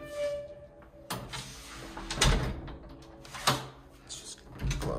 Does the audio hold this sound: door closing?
yes